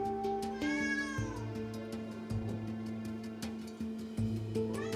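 A pet cat meows loudly and repeatedly at a closed room door, insistent drawn-out cries, close and prominent over a steady low hum.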